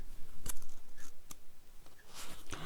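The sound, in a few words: scissors cutting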